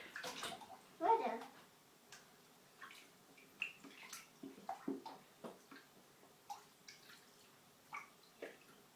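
Water running into a bathtub until it overflows, heard as faint splashing and dripping with scattered soft spatters, while a child and an adult talk nearby.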